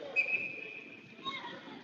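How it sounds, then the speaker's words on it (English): A referee's whistle at an ice hockey game signals icing, heard as two faint, thin shrill blasts over crowd murmur and distant commentary. "it'll be whistle dead for an icing coming the other way"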